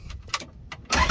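The engine of a Toyota Land Cruiser 60 series cranks in a few quick pulses, then catches and fires up almost at once, close and fairly loud.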